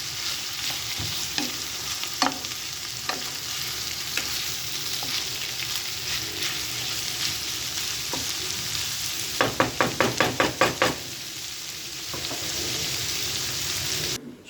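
Liver sizzles and crackles steadily in a hot pan over fairly high heat, with occasional stirring scrapes and a brief run of rapid clatter near the end; no talking.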